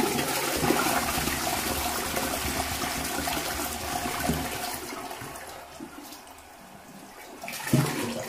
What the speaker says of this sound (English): I'll try flushing again.